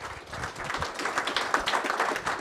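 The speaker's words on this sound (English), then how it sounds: "let's give our growers a big round of applause" Audience at an innovation center media event gives growers a round of applause, a moderate, uneven patter of many hands clapping with scattered louder claps, continuing throughout.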